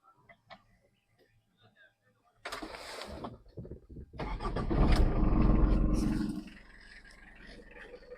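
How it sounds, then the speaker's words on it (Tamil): A 2015 Tata Indica engine cranks and catches, revving to a loud roar before settling into a steady idle after a few quiet clicks. "இன்ஜின் ஸ்டார்ட் பண்ணி காமிக்கிறேன் பாருங்க"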